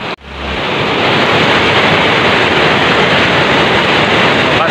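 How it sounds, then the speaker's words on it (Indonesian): The flooded Aek Sibontar river in Padang Sidempuan surges past in a loud, steady roar of churning water, a continuous wash of noise with no break. "debit air Sungai Aek Sibontar melonjak drastis hingga arus seketika bergejolak cukup deras"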